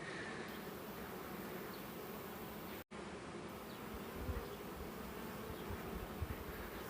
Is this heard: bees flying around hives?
yes